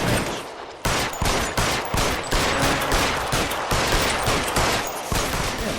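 Gunfire in L.A. Noire aimed at a suspect on a rooftop, loud rapid repeated shots in a steady rhythm, a brief pause early, then continuous volleys for several seconds, no talking.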